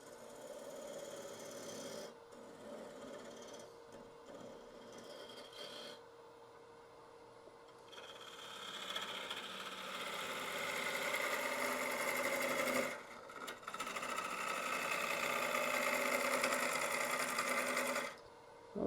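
A gouge scores out the center of a koa wood bowl spinning on a lathe, a scraping, rasping cut that starts softer and intermittent, then grows louder and continuous with brief pauses.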